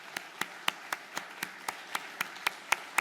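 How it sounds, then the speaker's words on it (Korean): A small church congregation at a Korean Sunday worship service claps in welcome, a dozen or so sharp, evenly spaced claps heard close and fairly quiet, with no talking. "우리 두 분을 격려하며 환영하며 박수하겠습니다"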